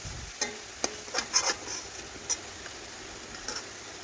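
Kulekhara leaf fritters are lifted from hot frying oil to drain, giving a faint soft sizzle with a few light clicks and taps of a utensil against the pan.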